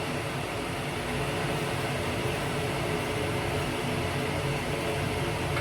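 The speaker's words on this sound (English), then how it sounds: "sorry about the kettle boiling in the background" Electric kettle boiling in a home kitchen, a steady broadband rushing roar with a low bubbling rumble, continuous and fairly loud throughout, with no voices.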